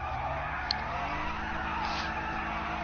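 Car tires skid and an engine roars steadily in a GTA game, a loud, continuous screech and drone lasting throughout with one brief sharp click.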